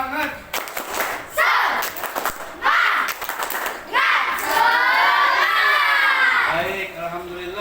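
Schoolchildren in a classroom shout a rhythmic spirit cheer in unison with claps, loud bursts of voices and clapping rising into sustained group shouting.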